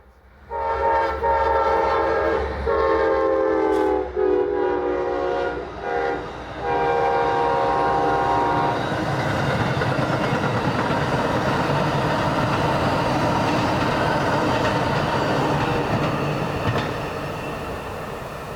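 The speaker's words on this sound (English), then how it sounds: "Now it's Amtrak 91's turn to roll through downtown Folkston on its way south toward its Jacksonville station stop." Amtrak 91 passenger train rolling south through downtown Folkston, Georgia, a loud horn blast sounding several times over the first half before giving way to a sustained rumble and rattle of passing cars.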